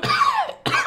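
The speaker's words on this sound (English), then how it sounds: "Clear my throat." A man clears his throat twice with harsh, voiced rasps, a longer one followed by a short second burst, close up and alone.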